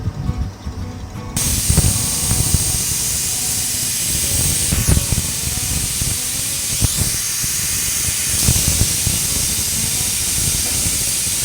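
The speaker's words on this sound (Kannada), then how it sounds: "ಈಗ ಕುಕ್ಕರ್ 3 ವಿಸಲ್ ಹೊಡೆದಿದೆ." A pressure cooker cooking mint pulao vents with loud, sustained hissing steam bursts, close and continuous for several seconds, with a few sharper surges and no talking.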